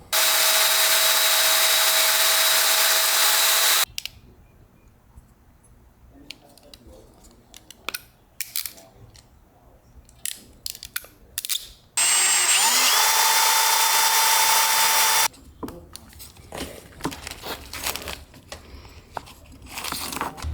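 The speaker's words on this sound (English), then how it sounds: "we'll just rip it in the bandsaw" A bandsaw slices through a truck hose in two loud, steady bursts of a few seconds each, separated by quieter stretches of handling clatter and small knocks.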